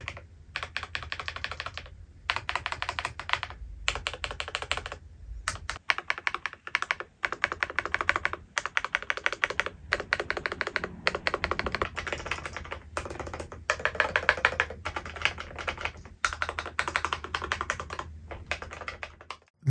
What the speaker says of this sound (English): So let's try some typing.